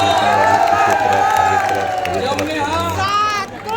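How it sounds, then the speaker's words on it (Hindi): Festival crowd at the Pola Mahotsav in Madiyapar cheering and clapping loudly and continuously, with a dense wash of voices and shouts throughout and strong low rhythmic music or drumming underneath. "स्वागत जोर से ताली बजाकर"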